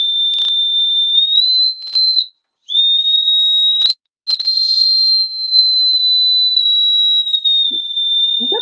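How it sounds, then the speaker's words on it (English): A high, steady train whistle blows trackside in long sustained tones, briefly breaking off twice before resuming, loud and clear with almost nothing else around it. "Is that the whistle again?"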